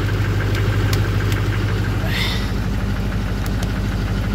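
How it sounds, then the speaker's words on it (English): A Duramax LB7 diesel idling after a cold start, a steady low rumble with a rhythmic clattering tick from the injectors, close and continuous throughout. "Duramax for you. She doesn't hesitate to just fire right the frick up"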